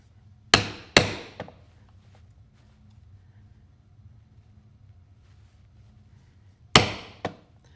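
A leather belt keeper being punched with a stitching chisel, three sharp mallet strikes in quick succession, a quiet pause, then two more blows near the end, close and loud against a low background hum.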